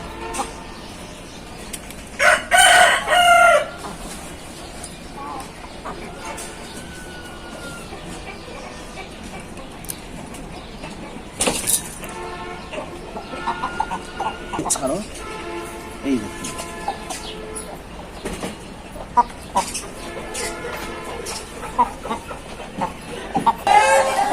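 Aseel chickens cluck and call now and then amid a busy background on a farm during treatment of a chick's mouth, with people talking through much of it.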